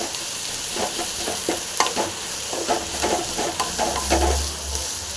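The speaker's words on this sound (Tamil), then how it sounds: "இந்த வெங்காயம், பூண்டு, கொத்தமல்லி, புதினா, இந்த மசாலா ஐட்டம் பூரா வந்து நல்லா ஃப்ரை ஆகிட்டு வருது." Onion, garlic, coriander, mint and masala fry steadily in a pan, a continuous close sizzle broken by repeated stirring scrapes, with no talking.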